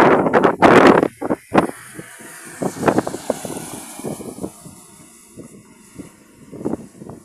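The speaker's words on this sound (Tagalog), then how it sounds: "Ang lapit na ng aeroplano mga kababa." A passenger airplane approaches to land at an airport in the Philippines, its broad engine roar and wind rush loud at first and then easing, with bursts of outdoor noise over a steady hiss.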